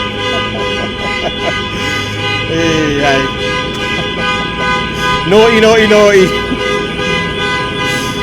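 A car alarm honks in repeated rising and falling bursts near a football stadium as a steward moves a player's car, loud over crowd noise, with a voice talking over it.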